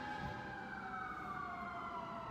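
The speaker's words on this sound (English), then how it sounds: "There's sirens." Sirens wail steadily from a fire station close by, a continuous rising-and-falling tone heard at moderate distance with no talk over it.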